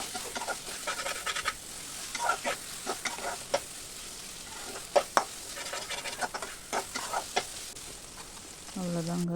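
Chicken tikka frying in oil while being stirred, a soft sizzling bed broken by repeated scraping and clattering strokes of a spoon against the pan, close and irregular, with a brief tone at the end.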